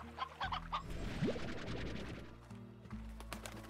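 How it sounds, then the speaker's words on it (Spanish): Chickens cluck in the video game Slime Rancher among game-like sound effects, with low rhythmic tones and scattered clicks running underneath. "esto está lleno de gallinas"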